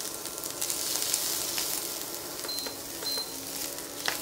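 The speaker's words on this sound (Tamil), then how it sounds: "ரொம்ப நாம் இதை ஃப்ரை பண்ண வேண்டியதில்லை, ஸ்லைட்டாக ஸ்டார்ட் பண்ண ஃப்ரை பண்ணால் போதும்" Finely chopped ginger and onion sizzle gently in a pan, a soft, continuous crackling hiss with a few brief faint beeps and no talking.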